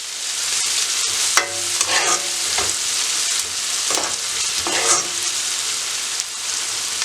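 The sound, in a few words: onions sautéing in a pan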